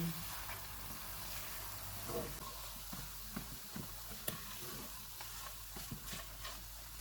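Almonds, pistachios and raisins dry-roasting in a pan for moong dal halwa give a quiet, steady sizzle, broken by scattered sharp clicks and scrapes as the spoon stirs them.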